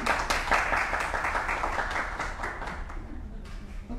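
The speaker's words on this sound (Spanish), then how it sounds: "Un aplauso," Audience applause at a Spanish-language event about people with Down syndrome, a loud dense burst of clapping that slowly tapers off toward the end.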